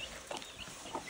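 A village chicken clucks softly in rural Nepal while coming to feed, giving a couple of brief, faint clucks close by in a quiet setting.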